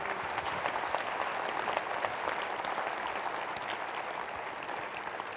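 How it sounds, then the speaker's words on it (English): Audience at a co-op AGM applauding, a steady even wash of clapping from a seated crowd that carries on for the whole stretch without talk. "Could I have a round of applause for both Phil and Mary?"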